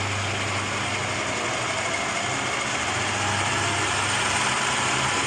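A Raglan 5-inch lathe with a variable speed drive hums steadily as its motor runs up to full speed, a continuous mechanical whir with a low tonal drone, no voices.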